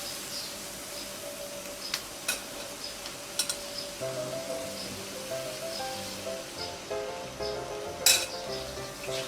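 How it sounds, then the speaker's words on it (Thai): Soft, steady sizzling of chicken breast searing in a covered pan over fairly low heat, broken by a few metallic clinks and taps of cookware. "เดี๋ยวเราไปนาบกับกระทะกันนะคะ"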